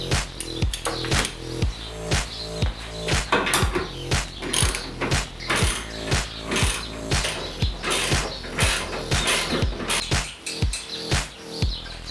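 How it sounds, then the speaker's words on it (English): A ratchet wrench tightens roll cage bolts in a Mazda MX-5, a fast series of sharp metallic clicks in bursts with short pauses, close and clear, with no talk. "we'll go ahead and tighten these and the real bolts to instructions say 44 pounds"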